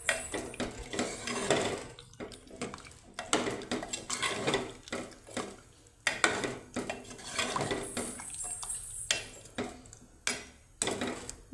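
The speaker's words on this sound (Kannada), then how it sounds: "ನೀರು ಹಾಕಿದ ನಂತರ ಈಗ ಚೆನ್ನಾಗಿ ಒಂದ್ಸರಿ ಮಿಕ್ಸ್ ಮಾಡ್ಕೋಬೇಕು." Drumstick sambar stirred in a pot after adding water, with a ladle repeatedly clinking and scraping against the metal sides in an irregular, close rhythm, the soft liquid swishing between strikes.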